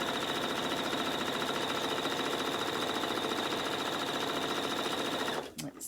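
A sewing machine stitching quilt patches runs at a steady rapid clatter, close and continuous for several seconds before stopping abruptly near the end.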